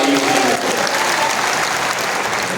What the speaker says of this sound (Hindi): एक बार मैंने कहने में फिर से इसके लिए जोरदार ताली